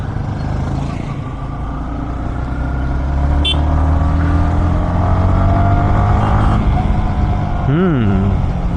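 Yamaha XSR 155 motorcycle ridden through city streets, its engine droning steadily with rising and falling revs, wind rush and passing traffic around it, and a rider talking over the ride.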